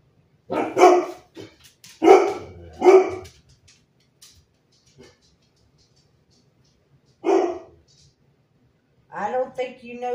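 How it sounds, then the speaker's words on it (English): A dog barks in several short, loud bursts separated by pauses, with a final cluster of yips near the end. "I don't think you know who you're barking at."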